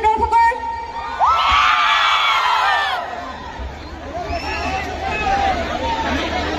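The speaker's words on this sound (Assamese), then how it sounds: "মোৰ ভাল লাগি গৈছে অসমৰ দৰ্শকৰ চিঞৰটো শুনি" A large crowd of spectators at a Bohag Bihu farewell celebration in Assam cheers and shouts loudly, with high whoops rising over steady babble that swells, dips and continues throughout.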